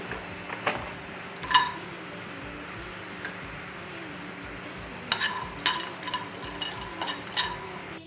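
Cashew nuts dry-roasting in a pan with no oil, with faint irregular clicks and scraping taps of stirring over a low steady background, sparse at first and then more frequent.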